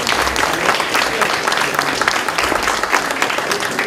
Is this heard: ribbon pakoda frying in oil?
no